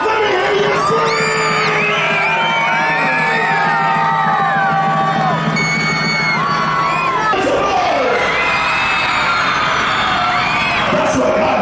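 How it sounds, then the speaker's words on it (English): Philadelphia Eagles fans cheer, whoop and scream at a sports event, a loud, sustained crowd roar with high yells and children's shrieks layered throughout, briefly dipping partway before surging again. "Eagles fans, make some noise! All of those cheer cars, let me hear you scream!"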